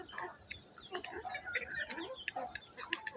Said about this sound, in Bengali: এই তো আমার মুরগিগুলো খাইতেছে